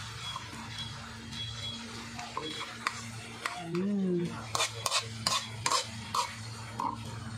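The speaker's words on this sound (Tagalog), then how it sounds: "Isain natin yung kamatis." Tomatoes are sautéed in a pan for kinamatisang daing, dried salted fish with tomato. A low frying hiss runs throughout, broken by scattered scrapes and stirring clicks, and a voice talks over it partway.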